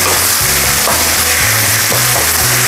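Pork being stirred as it cooks in a pot for pork kansi, a steady loud sizzle and bubbling hiss that runs without a break, close by and with no talk.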